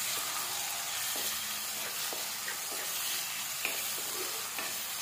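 Steady sizzling of tomatoes sautéing in a hot pan, with a few light scrapes of stirring breaking through the hiss. No one speaks.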